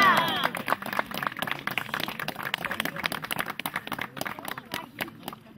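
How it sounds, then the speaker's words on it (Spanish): An outdoor audience at a traditional Korean tightrope-walking performance claps in a steady wash that lasts the whole stretch, with voices heard over it. "Fuerte el"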